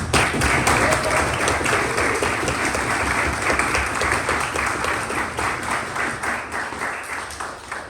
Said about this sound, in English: You can have like a little round of applause.